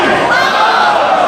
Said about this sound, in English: she's getting the crowd here at the jam-packed Woodbridge Armory to count along with her